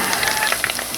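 Carioca balls deep-fry in hot oil in a pan, making a steady close-up sizzle dotted with small crackles and pops.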